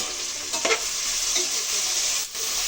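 Sliced onions for biryani deep-frying in hot oil, a steady broadband sizzle with brief louder bursts as they are stirred, close and loud with no voices.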